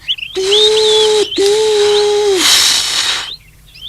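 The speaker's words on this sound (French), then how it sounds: "les deux bateaux commencent à avancer et sifflent tant qu'ils peuvent" Steamboat whistles blow in long, loud blasts, one after another with a short break between, and a hissing burst of steam at the end.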